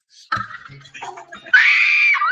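A woman lets out a loud, sustained high-pitched shriek of surprise, following a moment of scattered voices and rustling.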